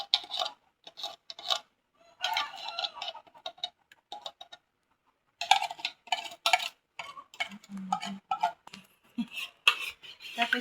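Eggs whisked in a bowl, giving bursts of scraping and clinking utensil strokes in uneven runs with short pauses, close and clear, no talk.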